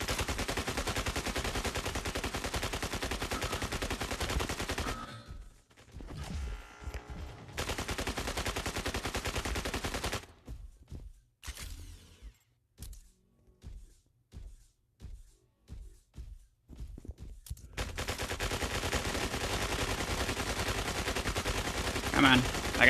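Rapid automatic gunfire from the Mech Arena video game rattles in long dense bursts, broken by short staccato volleys and quiet gaps before the heavy fire resumes.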